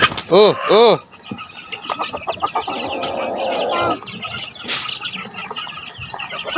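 Fighting roosters cluck and crow close by, with a burst of wing flapping and a harsh squawk; a voice murmurs briefly in the background.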